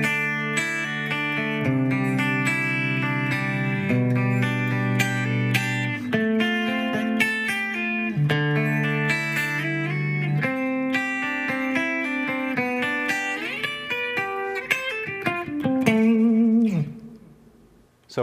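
Electric guitar plays a metal rhythm part built on chord tones with scale-tone embellishments, a steady sustained run of chords and fills for about sixteen seconds before fading out, with no talking.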